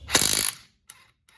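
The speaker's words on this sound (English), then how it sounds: "give it the full bean for a potato or two with a torque stick, and then see if it re-engages with the torque wrench at 80 foot-pounds" A Lisle torque stick and torque wrench work on a car's lug nut: one short, harsh mechanical burst of rapid clicking, then two faint separate clicks a moment later.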